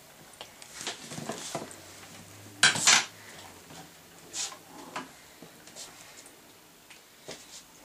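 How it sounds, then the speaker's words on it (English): A spoon stirring slime in a bowl, with soft wet scraping, a few light clinks and one louder knock against the bowl partway through. "You then need to stir it with a spoon."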